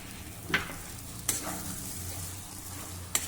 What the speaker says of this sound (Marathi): ही सर्व वांगी आता या मसाल्यांबरोबर अजून 2 मिनिटांसाठी परतून घेऊ.